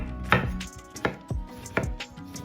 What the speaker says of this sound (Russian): Красный болгарский перец на крупные кусочки.